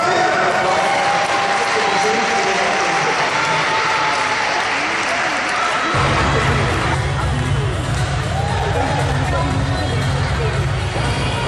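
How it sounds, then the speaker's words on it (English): Sustained audience applause and cheering at the Ananda Utsav 2010 beauty contest in Los Angeles, a loud, continuous roar of clapping with crowd babble, joined halfway through by a deep low rumble from the hall's sound system. "Please, a round of applause to the rest of the"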